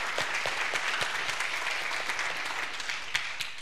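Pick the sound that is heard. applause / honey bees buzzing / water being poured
applause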